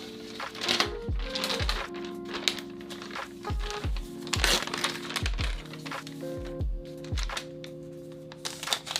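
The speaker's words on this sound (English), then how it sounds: "now it's time to peel this off to show you guys the iPad" Protective plastic film peeled off a new 12.9-inch iPad Pro M2 during unboxing, a close series of crinkly tearing and crackling bursts with soft rustles, steady and alone with no talk.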